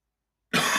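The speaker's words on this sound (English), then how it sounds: "why am I coughing so much?" A single harsh cough bursts out after a moment of silence, loud and close, with a rough throaty texture.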